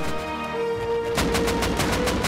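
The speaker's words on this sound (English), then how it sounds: "a 221 gun salute with fireworks and stuff" A 221-gun salute with fireworks in the video game Rust: after a brief, quieter lead-in, a loud, close, rapid string of sharp blasts bursts out, repeating several times a second until the end.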